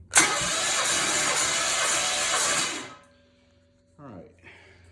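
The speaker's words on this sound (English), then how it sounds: "I do have a nice little remote starter instead of the screwdriver I was using in the last one" An engine cranks loudly via a remote starter for a few seconds without catching, then stops; a brief whirring sound follows after a short pause.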